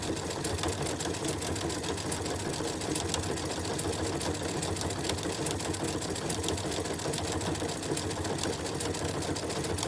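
A sewing machine runs continuously at speed, stitching decorative stitches along a quilt binding in a fast, even mechanical chatter, close and unbroken with no voices.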